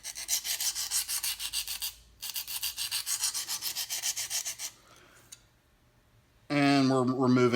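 A knife blade strokes rhythmically across KME diamond sharpening stones, a steady scraping rub repeated in quick passes, pausing briefly, then resuming before a voice starts speaking near the end.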